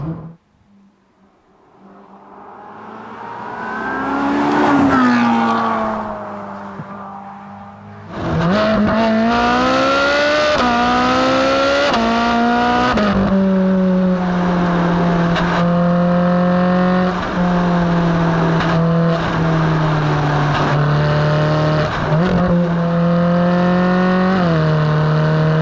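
Ferrari 458 Speciale V8 engine revving hard and accelerating, loud and close, rising and falling in pitch through several gear changes after a brief quieter build-up, with no talking.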